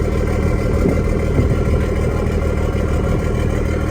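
Car engine just started and idling steadily, a continuous low rumble held at an even level throughout with no revving.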